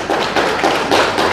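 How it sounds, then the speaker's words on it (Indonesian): Applause from an audience at a talk in Bali for a woman named Bu Laksmi, a steady patter of many hands clapping close by for just over a second. "tepuk tangan Bu Laksmi"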